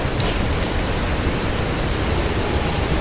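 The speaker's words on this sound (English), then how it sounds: "Right now we are getting large hail" Large golf-ball hail falling during a supercell thunderstorm in St. Louis, Missouri, heard as a loud, steady wash of impacts with a few sharper hits scattered through it.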